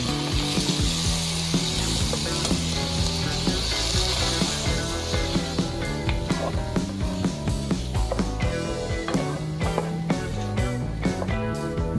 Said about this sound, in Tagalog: Pag naigisa na natin itong bawang sibuyas luya, ilalagay na natin itong kamatis.